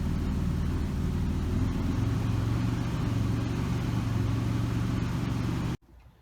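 A 1986 Nissan 300ZX Z31 turbo engine idles steadily and close up with a constant low hum that stays even until it cuts off abruptly near the end, leaving near silence.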